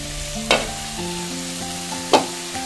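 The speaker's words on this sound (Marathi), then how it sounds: "बटाटे चांगले परतून घेते।" Chopped potatoes sautéed in a pan over a steady sizzle, with two sharp stirring scrapes standing out, nearby and without talk.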